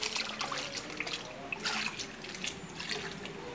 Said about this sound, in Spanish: Antes de llevarla al derretidor, se procede a hacerle esto, lavarla en agua.